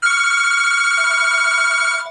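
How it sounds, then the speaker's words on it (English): Telephone ringing loudly and steadily for about two seconds, a bright electronic ringtone with a pulsing lower tone joining halfway through, close and alone with no voices. "And that's the phone"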